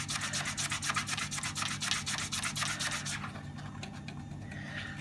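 A microfiber sponge rubbing the chassis of a Bugaboo Bee stroller, close rhythmic back-and-forth scrubbing strokes in a quick steady series that then turn softer and sparser.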